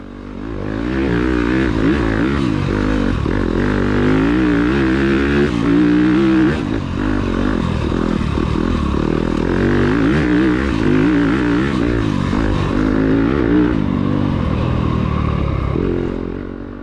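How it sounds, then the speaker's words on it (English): A 2021 Yamaha YZ250FX dirt bike engine revs hard and close, its throttle blipping up and down repeatedly in crisp bursts over a continuous loud drone, with no talk. "These engines are powerful, throttle response is immediate and crisp, and they rev to the moon."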